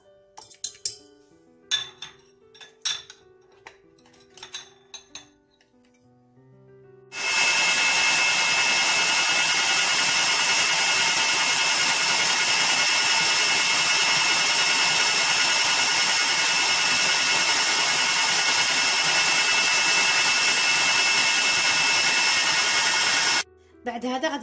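A kitchen stand mixer runs steadily and loudly for about sixteen seconds while mixing crêpe batter with flour, starting abruptly after a few sparse clinks of dishes and utensils and cutting off briefly near the end.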